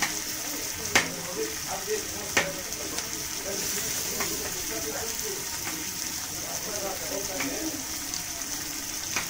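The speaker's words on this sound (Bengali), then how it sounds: "এগুলো একটু ভালো করে ভেজে তারপর আমি মিক্সিতে পিষে নেব" Green chillies frying in hot oil give off a steady, close sizzle, punctuated by a few sharper clacks of stirring against the pan, with no talking.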